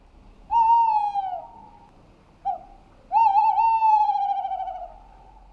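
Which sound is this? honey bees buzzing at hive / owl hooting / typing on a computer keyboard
owl hooting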